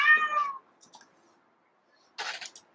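A house cat meows once in a clear, close, drawn-out call, then a few faint short noises follow before a brief rustly burst near the end.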